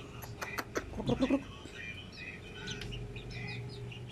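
Month-old Melsim Black chicks peeping and chirping, with a burst of louder calls early on, then softer scattered chirps over steady background noise.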